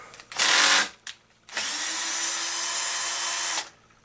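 Power drill backing screws out of a pipe bracket: a short high whir, a brief blip, then a longer steady whine of the motor running for about two seconds before stopping.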